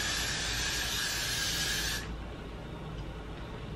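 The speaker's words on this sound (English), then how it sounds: "Spray all the hair." Hairspray sprayed onto hair in one steady, close, loud hiss lasting about two seconds, then cutting off abruptly to quiet room tone.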